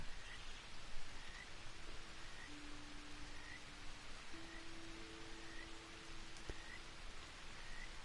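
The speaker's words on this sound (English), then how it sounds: "I like the sound of the rain on this." Rain falls steadily in Red Dead Redemption 2, a soft continuous hiss of drops on surfaces with faint tonal game ambience underneath and no talking.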